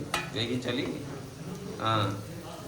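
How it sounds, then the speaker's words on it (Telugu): Cut onions deep frying in oil for biryani give a soft sizzle with faint clinks of utensils, heard beneath a person talking. "ఆనియన్స్, ఎర్రగడ్డలు తీసుకొని బాగా కట్ చేసుకొని ఇట్లా నూనెలో డీప్ ఫ్రై చేయాలన్నమాట"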